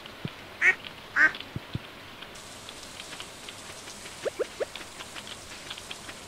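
Ducks quack in Stardew Valley, two louder quacks early and a few short, softer calls later, over a steady patter of rain.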